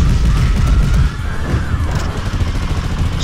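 A loud gunshot-like boom with a crash in a fight between Chuck Norris and Segata Sanshiro, a heavy blast that quickly decays into a rumbling tail.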